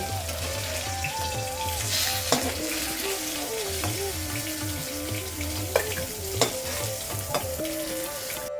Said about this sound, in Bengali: মাছের মাথা দুদিকে ভালো খুব ভালো করে ভাজা হয়ে গেছে